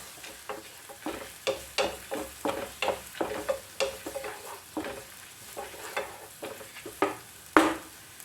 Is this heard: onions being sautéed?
yes